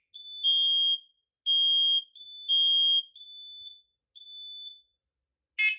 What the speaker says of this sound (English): Warning, evacuate. Carbon monoxide in master bedroom. Evacuate.